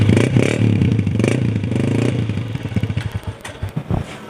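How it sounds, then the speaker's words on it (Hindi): A Honda 125 motorcycle is kick-started and runs close by. The engine rumbles loudly, then settles into an uneven, sputtering idle with rattling pops. "कामी बाबा ज़रा किक तो लगाएं, ज़रा साउंड तो सुने।"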